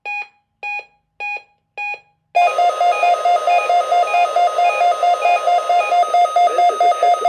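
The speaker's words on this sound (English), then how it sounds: "This is a test of the NOAA weather radio warning alarm." NOAA weather radio warning alarm test: four short beeps, then a loud continuous two-tone alarm pulsing steadily for several seconds, heard alone without speech.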